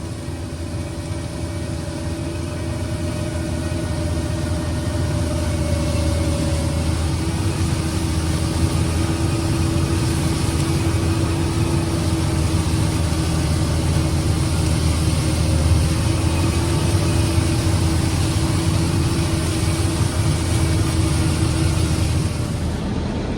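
A tractor engine runs with a steady, continuous low drone and a faint higher hum, unchanging for the whole stretch with no talking.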